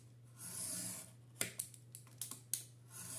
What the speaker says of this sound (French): Je fais plusieurs passages pour commencer à bien creuser ma cartonnette